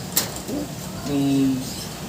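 Soft coos from breeder racing pigeons in a loft murmur close by, with one low throaty call swelling in the middle, over faint background rustle and a brief click.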